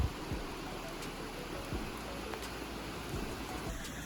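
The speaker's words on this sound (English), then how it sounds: "It's really pouring down." Heavy rain pours steadily in a dense, hissing wash at Coos Canyon on Maine's Swift River, with occasional louder drops or thumps nearby and no talking.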